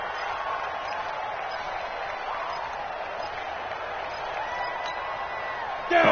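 Steady stadium crowd roar from a football video game, a continuous loud murmur of cheering fans at a home-field game, rising into a brief louder burst at the very end.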